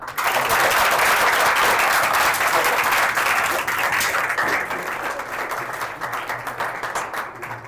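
Sustained, dense applause fills a school gathering in Hub, Balochistan, loud and even throughout with a slight easing toward the end and faint voices underneath.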